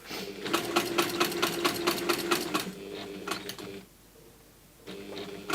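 Sewing machine stitching a personalised purse in gold thread, a rapid, even mechanical whirring in quick pulsed bursts, pausing briefly before starting again, close and fairly quiet.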